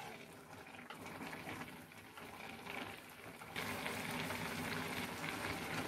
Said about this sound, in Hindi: अब इसे 10-15 मिनट और चलाना पड़ेगा